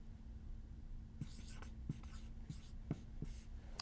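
Pencil writing a word on paper: several short scratchy strokes in an uneven rhythm, close and fairly quiet over a steady low hum, with no speech.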